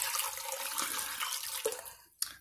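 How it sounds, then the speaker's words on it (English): Water poured from an 8-cup measuring cup into a foot tub for a pedicure, a steady splashing stream that tapers off and ends with a last slosh. "Holds 8 cups of water, so I'm gonna go ahead and pour this in here."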